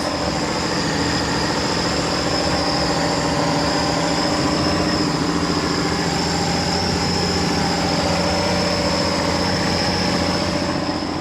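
A loud, steady jet ski engine drone runs throughout with a constant mechanical whine and rumble, close and unchanging, the engine running with its covers off.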